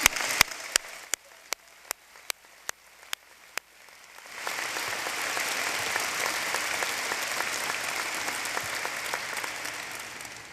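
Audience applause at a 2023 college commencement ceremony, starting as a few sharp separate claps and swelling after about four seconds into dense, sustained clapping from a large crowd.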